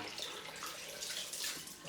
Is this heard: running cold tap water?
yes